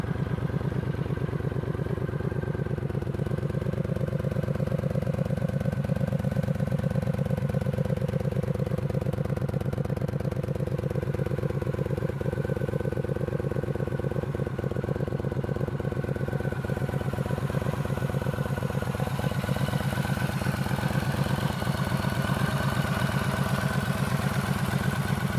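A used Yamaha Stryker XVS13CBBC 1300 cruiser motorcycle idles steadily and alone at close range, its low engine rumble holding an even, unbroken rhythm throughout.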